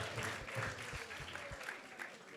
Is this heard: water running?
no